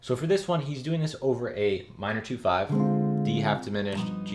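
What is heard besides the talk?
No everyday noise stands out behind the speech.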